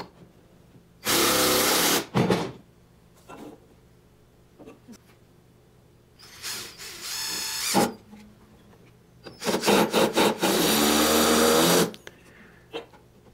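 Power drill driving screws into a DIY Japanese garden black-rock water pillar: three loud sustained whirring runs of one to two seconds each, separated by quieter gaps with small knocks and handling noises.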